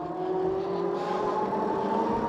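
Mokwheel Obsidian ST e-bike hub motor whines steadily under throttle while climbing a steep incline, a close, even electric hum with tonal bands and road noise, no talk.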